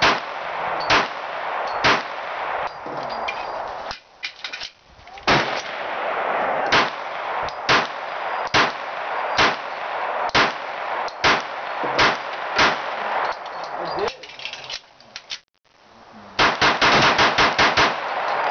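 A Springfield TRP pistol fires a long string of loud, sharp gunshots in a steady rhythm, some followed by metallic clangs from a steel target, ending in a rapid burst of shots.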